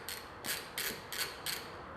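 A 12mm socket ratchet loosens the pulley bolts on an EP3 engine during a K-Tuned adjustable pulley kit install, giving five evenly spaced bursts of bright, close ratcheting clicks over a quiet background.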